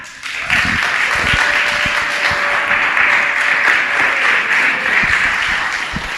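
A story slam audience bursts into loud, sustained clapping, a dense continuous patter of many hands heard close and steady for several seconds, with a few sharper individual claps standing out.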